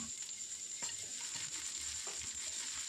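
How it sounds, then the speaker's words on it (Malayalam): Ginger frying in oil for mango pickle, a soft, quiet sizzle broken by a few scraping stirs of a spoon across the pan. "ഇഞ്ചി ഇട്ട് കൊടുക്കാം. നന്നായിട്ട് ഇളക്കി കൊടുക്കുക."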